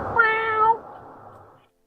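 A cat gives a single clear, drawn-out meow close by, then fades into faint room quiet with no voices.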